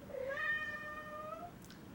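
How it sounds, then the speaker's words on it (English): A cat lets out one long, drawn-out, rising-then-falling meow, close and fairly clear over a faint background hiss. "Cat."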